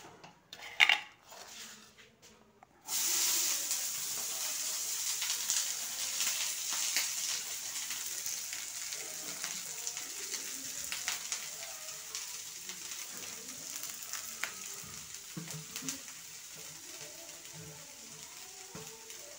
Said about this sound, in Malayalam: അതിലേക്ക് ഈ അരിഞ്ഞു വച്ചിരിക്കുന്ന കാബേജും മുളകും എടുത്തിടാൻ പോവുകയാണ്